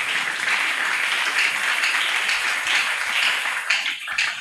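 A church congregation bursts into sustained applause during a service, loud, dense clapping from many hands that continues steadily without pause.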